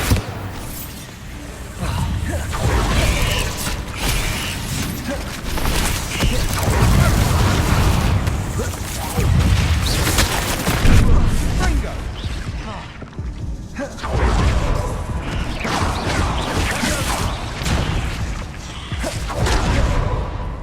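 Bombarda spell explosions in Hogwarts Legacy burst out amid continuous spell-combat noise, with repeated booms, thuds and whooshes running loudly throughout.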